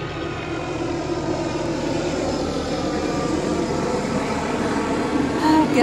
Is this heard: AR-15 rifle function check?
no